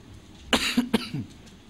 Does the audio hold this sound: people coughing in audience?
yes